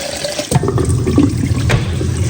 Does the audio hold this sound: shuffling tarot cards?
no